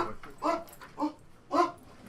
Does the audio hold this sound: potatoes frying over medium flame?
no